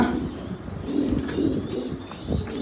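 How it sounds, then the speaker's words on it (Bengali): A racing pigeon with marble eyes coos in low, repeated rolling calls, close and clear, with no talk over them. "খুবই চমৎকার একটা কবুতর"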